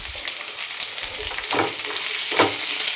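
Shallots frying in a pan, a close steady sizzle with two stronger crackling bursts as they are stirred, moderately loud and without speech.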